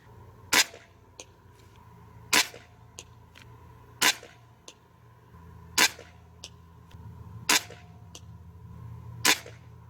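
A Stoeger XM1 S4 suppressed .22 (5.5 mm) PCP air rifle fired at 75 metres, six sharp, loud cracks spaced about two seconds apart, each with a brief ringing tail over a low background hum.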